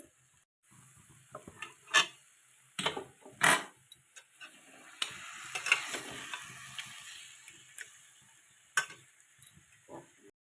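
Fried hilsa fish head being stirred and sautéed with cabbage in a pan, with soft sizzling under a series of sharp spatula scrapes and clanks that come irregularly, fairly quiet and close.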